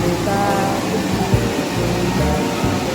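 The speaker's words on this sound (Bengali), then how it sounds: "বিভৎস জোরে নদী বয়ে আসছে।" The turbulent Beas River rushes forcefully below a roadside in the Spiti Valley region, a loud, continuous broadband roar of churning water filling the whole moment.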